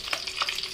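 Eggs fry in a pan with turmeric and chili, giving a brief, close, steady sizzle with light stirring scrapes.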